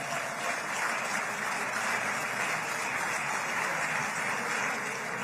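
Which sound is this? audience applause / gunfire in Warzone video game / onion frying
audience applause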